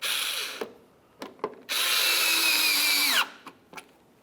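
A power tool drives a mounting bolt under a 2004-2015 Nissan Titan during a front upper control arm replacement: a few short taps, then a loud, close whirring run of about a second and a half, and brief trailing bursts.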